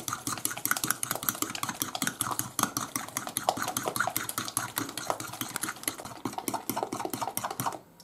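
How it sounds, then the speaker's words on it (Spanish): Rapid, steady whisking of a sugar mixture for homemade orange flan, with dense metallic clicks of a whisk against a bowl running continuously and close-up, no talking. "Y lo mezclamos con el azúcar. Y lo batimos."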